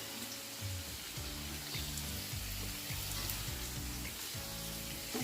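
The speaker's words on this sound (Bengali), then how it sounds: "একটু ঢাকা দিয়ে ভেজে নিই।" Food fries in oil in a pan for a breakfast dish, a loud, continuous close sizzle with clattering and stirring knocks scattered through it.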